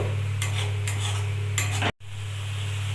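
Ground tomato is stirred into a village-style katla fish kalia masala, repeated scraping strokes of a spoon against the pot over a steady low hum, then a brief cut to silence before the hum resumes.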